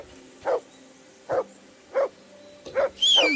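Repeated single barks from a dog in Kingdom Come: Deliverance 2, five spaced woofs fairly close, with a rising whistling tone entering at the end.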